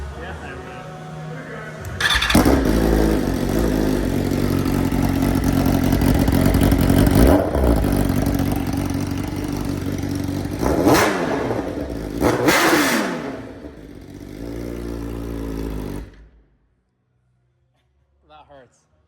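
A BMW M1000RR motorcycle fires up and revs hard through a very loud exhaust, with repeated sharp throttle blips over a steady roaring idle, close by, before cutting off abruptly near the end.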